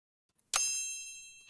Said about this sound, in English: the small bell above the door making a pleasant ringing sound